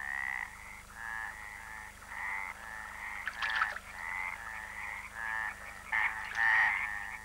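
Several stripeless tree frogs croak in rapid repeated bursts, a steady chorus of raspy calls close by with no other sounds.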